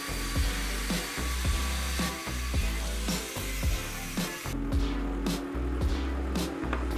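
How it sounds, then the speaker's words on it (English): Steel bar is sliced with a power cutting tool while making bent back pieces for a steel and paracord garden chair. A rhythmic series of repeated cutting passes is heard up close, each a short harsh burst over a steady motor drone. "So here I am again cutting more slices into more steel."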